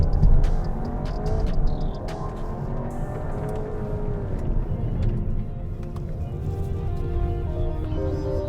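A Volkswagen Arteon R-Line accelerates through a corner, its engine note rising and falling in pitch as the car pulls hard. Steady road and cabin rumble sits underneath.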